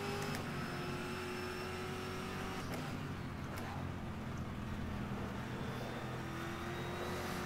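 A Camaro GT3 race car at Silverstone in rFactor 2, its engine droning steadily at a muted level with gear-change blips and a slowly shifting pitch, and no talk.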